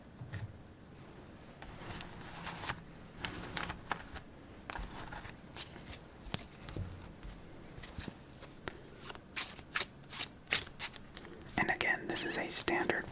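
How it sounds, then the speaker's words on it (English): A standard Bicycle deck of playing cards is shuffled several times, giving quick crisp riffles and soft snapping flutters close up, with a soft whisper in the background. "give it a few shuffles"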